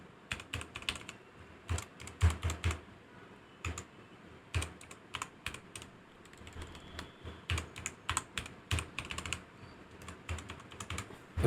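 Keys clatter on a computer keyboard in quick bursts with short pauses between them, close and fairly quiet, as a username and password are entered.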